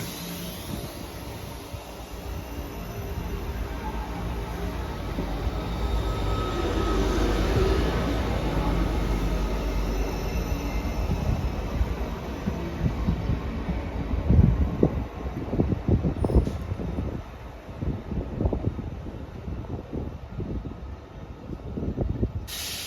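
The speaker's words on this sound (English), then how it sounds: "Departing out now is the 15:47 ScotRail service from Bathgate to Edinburgh Waverley." A ScotRail train moves through Haymarket station in Edinburgh, a broad rumble and hiss of wheels and engine swelling and fading over a long stretch, with scattered clanks and rail noise close by.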